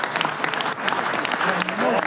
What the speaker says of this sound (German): Und durch das nochmal Applaus.